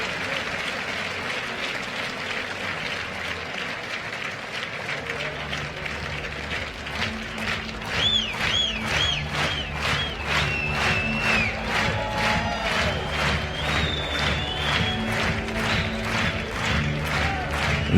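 A grandstand crowd at a world breeding dressage championship for young horses claps and cheers in sustained applause. It swells louder halfway through as rhythmic clapping and whistles build, and a voice sounds faintly underneath.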